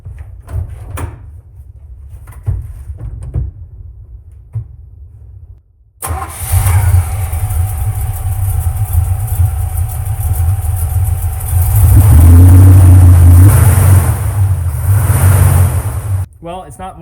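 A Chevrolet squarebody truck engine after a flipped serpentine belt: quiet clunks and handling noises, then the starter catches and the engine fires up loud and close, revving briefly before settling into a steady idle.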